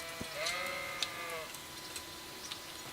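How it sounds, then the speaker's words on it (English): Goats in Kingdom Come: Deliverance bleat in a quick cluster of wavering, nasal cries, one long call trailing off, over a steady faint background hum. "Goats."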